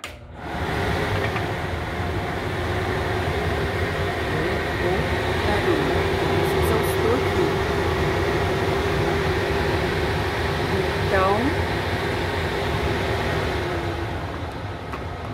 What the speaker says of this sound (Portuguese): E também o exaustor, ele é muito forte, ele é muito potente. Eu vou ligar aqui só para vocês verem a potência da coisa.